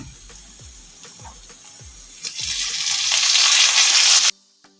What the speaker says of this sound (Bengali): মশলা সবজিগুলো সব ভাজা হয়ে গেছে